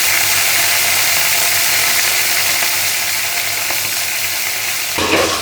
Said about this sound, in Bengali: এখানে চিংড়ি মাছটাও ভেজে নিচ্ছি